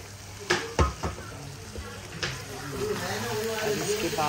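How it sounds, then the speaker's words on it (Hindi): Curd and ghee frying in a pan while being stirred, a steady close sizzle broken by a few sharp knocks of the utensil against the pan, with a voice talking over it. "मैंने दही डाल के थोड़ा सा इसको भूना है, मिक्स किया है"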